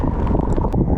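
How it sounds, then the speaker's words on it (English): Strong wind gusts buffet an outdoor microphone at a rainy lakeside truck campsite, a continuous loud low rumble that swells and fades through the short moment. "The wind keeps coming in these big gusts and then disappears for a second."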